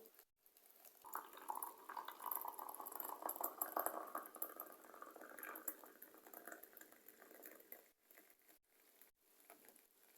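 Boiling water poured from a kettle over gelatin in a bowl, a soft, steady trickling stream of liquid that swells and then thins out before a few quiet clinks near the end.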